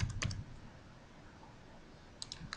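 Soft computer mouse clicks and a quick burst of keyboard typing at the start, then a quiet pause before a few more light clicks near the end, all close and faint with no voices.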